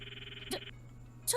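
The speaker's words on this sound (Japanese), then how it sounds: "これってマユシの携帯の 着信音だ。" Mayushii's mobile phone ringtone in Steins;Gate, a faint steady electronic tone that cuts off after a short burst, followed by brief clicky game sounds over a low hum.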